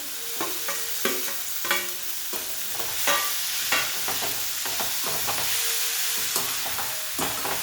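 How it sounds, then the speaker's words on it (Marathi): Fried eggplant, cauliflower and potato are stirred in a sizzling pan, a steady hiss of frying under repeated scraping strokes of a spoon, close and continuous with no talking. "मिक्स करून घेऊ यातच आपण ह्या ज्या सगळ्या भाज्या फ्राय करून घेतल्या होत्या त्या घेणार आहोत"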